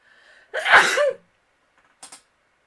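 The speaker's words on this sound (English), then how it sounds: "I'm going to sneeze." A single loud, close sneeze with a sharp breathy burst, followed by a brief faint sniff after a pause.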